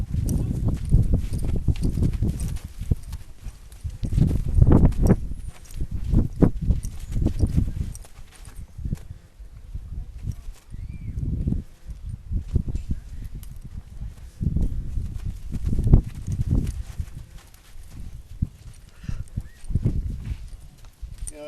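A young, unhalter-broken colt's hooves clip-clop at a slow walk during a first halter-training session, steady loose steps close by with rustling and someone talking over them.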